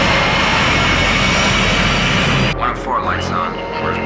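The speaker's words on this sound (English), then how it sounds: "The flight from Frankfurt approaches Heathrow Airport, London." A Pan Am airliner on its approach to land at Heathrow after a flight from Frankfurt gives a loud, steady engine roar that cuts away suddenly partway through, leaving quieter sounds behind.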